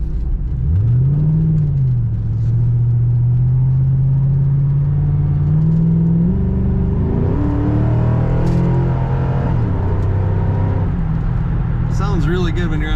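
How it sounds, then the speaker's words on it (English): A 2006 Ford Mustang Saleen S281 convertible accelerates from inside the cabin, its engine note climbing steadily through a long pull and then shifting, with a continuous loud rumble and talk over the top. "We'll give you another acceleration here."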